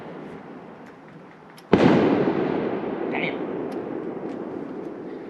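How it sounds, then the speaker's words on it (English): A single sharp firework blast goes off outdoors, a sudden loud bang followed by a long rumbling decay that fades over several seconds; a voice speaks briefly under the tail. "I thought that first blast was the firework."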